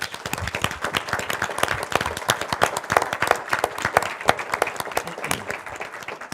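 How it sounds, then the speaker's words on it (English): A crowd applauding steadily, dense overlapping claps at a fairly close, even level throughout, with no voices over it. "I'd like to take a moment for a round of applause for all these outstanding collaborators"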